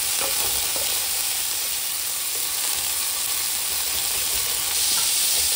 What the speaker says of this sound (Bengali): আলু আর ফুলকপিটা গোল্ডেন ব্রাউন করে ভেজে নেবে।